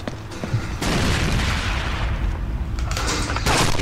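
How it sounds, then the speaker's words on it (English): Grenade blast in the Rainbow Six Vegas 2 video game, a broad, loud rumbling burst that sustains for a few seconds, with another sharp hit near the end. "Oh, throwing a grenade at me!"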